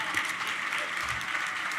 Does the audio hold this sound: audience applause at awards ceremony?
yes